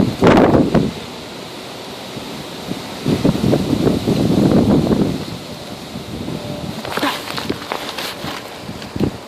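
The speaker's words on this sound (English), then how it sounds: "these winds are very strong" Strong gusts from a tropical storm batter the microphone in rough, surging bursts, loud and close, with blustery rumbling that rises and falls over several seconds.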